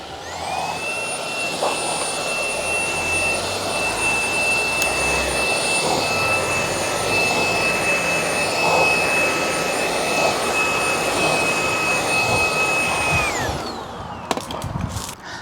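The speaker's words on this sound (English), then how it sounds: "Then let's just give it a quick vacuum." A loud vacuum cleaner running continuously with a high whine while cleaning car mats, then powering down near the end.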